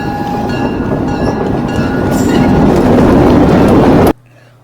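Locomotive CVSR 6777 leads a northbound train past at close range, a loud rolling rumble with clattering wheels and steady engine drone that builds before cutting off abruptly near the end.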